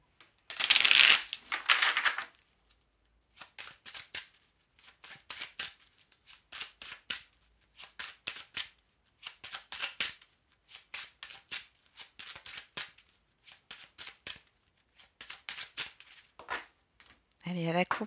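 Oracle cards being shuffled by hand, a loud burst at the start followed by a steady series of short riffling bursts repeating every second or so, with a brief voice near the end.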